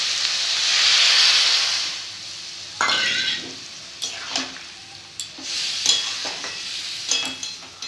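Mustard paste mixed with water hits a bottle gourd curry in a pan, bursting into a loud sizzle that settles into steady frying with intermittent stirring scrapes and crackles; no talk.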